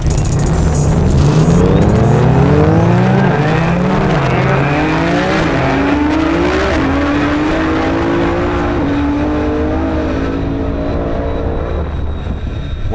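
ETS's 2500+ hp Nissan GTR tearing through a top speed run at a Shift Sector event, a loud engine roar climbing through several gear changes with rising, stepped pitch sweeps, close and continuous throughout.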